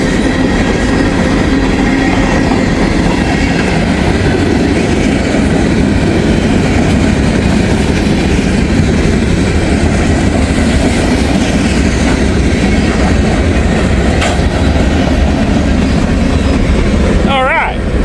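Freight train of empty hopper cars rolling past close by, a loud continuous rumble with rhythmic clatter of wheels over rail joints and a brief squeal near the end.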